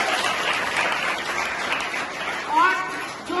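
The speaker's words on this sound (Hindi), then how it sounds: "सभी के लिए जोरदार ताली" Audience clapping at a school award ceremony honouring girl students, a steady wash of applause from a crowd, with children's voices and speech mixed in.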